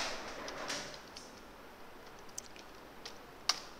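Soft, sparse keystrokes on a computer keyboard while code is written, a few scattered clicks with one sharper tap near the end, faint and close with no talking.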